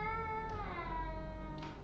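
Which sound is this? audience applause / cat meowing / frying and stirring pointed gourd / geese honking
cat meowing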